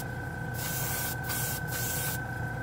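A Harbor Freight Avanti airbrush sprays paint on models with its nozzle removed, held close for fine lines: a steady, close hiss broken by two short pauses, then cutting off before the end, with no talk.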